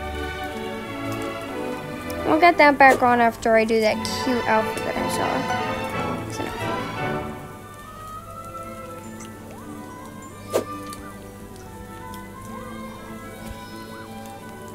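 Soft, steady rain falls in the Roblox game Royal High, a light patter under a chatty voice and layered game music that fades after the first half.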